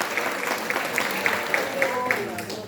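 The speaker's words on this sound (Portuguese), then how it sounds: "Você pode aplaudir o Senhor?" A church congregation applauds during a sermon, with a steady wash of clapping and sharp rhythmic claps standing out, and a voice talking over it.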